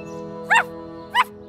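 A cartoon puppy gives two short, bright yapping barks about half a second apart, heard close and clear over a steady musical background.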